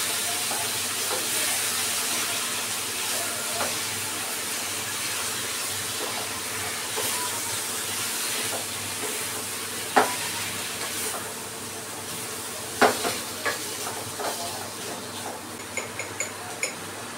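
Boiled, drained taro stems tipped into a pan of frying spiced masala, giving a soft steady sizzle with scattered scraping and clinks of a spoon against the pot as it is stirred, no voices.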